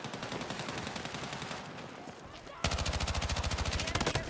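SMG fire in a video game shooter rattles in rapid bursts, first somewhat distant and thinner, then a loud, close sustained stream of fast rhythmic shots over the final seconds.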